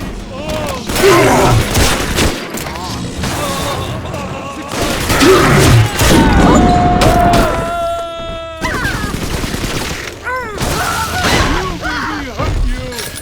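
A firing-squad volley of gunfire in BioShock 2 bursts out in loud, broadband cracks over game music and shouting voices, with a further heavy burst after a short pause.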